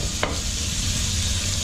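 Shallots fry in a pan for carbonara, a short steady sizzle with one faint clink near the start.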